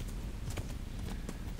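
Horse hooves clop in quick, rhythmic strikes in the medieval video game Kingdom Come: Deliverance, a steady galloping beat over a continuous low rumble.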